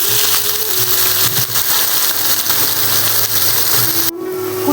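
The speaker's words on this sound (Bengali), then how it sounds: "কুচানো পেঁয়াজ এখন আমি তেলের মধ্যে দিয়ে দেবো।" Chopped onions hit hot oil in a pan and sizzle loudly, a dense steady hiss close by that suddenly drops near the end.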